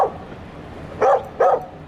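A dog gives a few short, sharp barks, close by, during a fuel stop on a van road trip in Tennessee. The barks are spaced apart with quiet between them.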